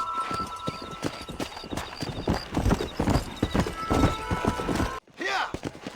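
Horse hooves clip-clopping at a brisk riding pace in the Red Dead Redemption video game, close and steady, with a neigh or whinny and some speech mixed in before a brief cut near the end.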